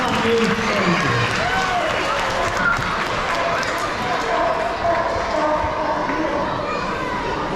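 Outdoor crowd at a sea lion show at Knowsley Safari clapping continuously, a dense wash of applause mixed with children's voices and chatter, steady throughout.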